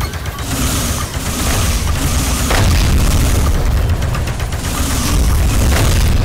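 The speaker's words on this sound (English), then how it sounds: "The guns are quite small, but they really do feel very powerful, thanks to the amazing sound effects." Rapid gunfire from small guns in the VR shooter Space Pirate Trainer on PSVR, a dense, continuous barrage of loud booming blasts and pops with heavy low end, no talking.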